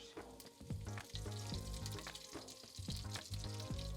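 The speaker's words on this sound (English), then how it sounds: "next thing I'm going to add the curry leaves" Curry leaves fry in hot oil in a pan, making a steady close sizzle and crackle with occasional stirring knocks and scrapes. Low hums from the stove run underneath, and no one speaks.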